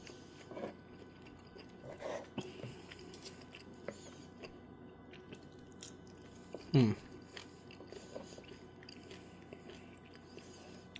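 Someone chews juicy sous vide Costco USDA Select top sirloin beef with a closed mouth, producing soft, wet squishing bites close to the microphone, quiet and intermittent over a low room hum.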